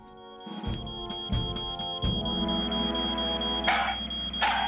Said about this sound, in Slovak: Zase alarm v supermarkete Price?